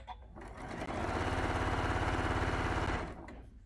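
A sewing machine stitches quilt sashing in one steady motorized run of about two seconds, with a short start and wind-down at either end. The rapid, even needle hum is close and fairly loud, with no talking.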